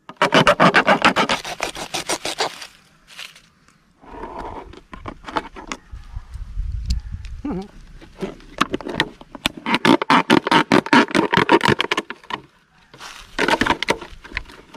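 A plastic bottle is cut to make a fish trap, with loud, close rasping and scraping strokes in bursts, separated by brief pauses and some quieter handling noise.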